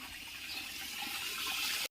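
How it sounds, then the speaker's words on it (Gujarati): Water rushes steadily into a cattle trough in a farm stable through an automatic float valve, a close, continuous splashing hiss that cuts off abruptly at the end. "ટોપડી ની અંદર પાણી આવે ઉલંગસુ થાય આમ અને આપણો ઓટોમેટિક વાલે એકદમ ચાલુ છે"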